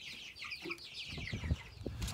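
Chickens cluck softly inside a chicken house after a cold, damp spell outdoors, with a few scattered short calls over a low, muffled background.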